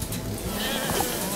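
Goats bleat in the Lumberhill co-op video game, short animal calls set against a constant bed of game background noise across a brief moment.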